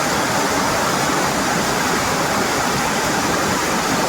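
A waterfall roars as a dense, constant rush of broadband water noise, loud and close, with no breaks.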